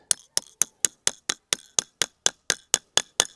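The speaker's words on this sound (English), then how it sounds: "So the hole's tapped, the spile's in." A metal spile is driven into a drilled tap hole in a maple tree with about a dozen sharp, evenly spaced hammer taps, each a bright, clinking strike that rings close and clear with no talk.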